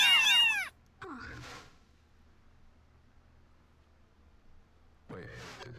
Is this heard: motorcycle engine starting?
no